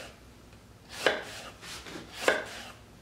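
A kitchen knife cuts through vegetables on a cutting board while preparing kimchi, two distinct close chopping strikes with softer slicing and sliding sounds between them, no voices.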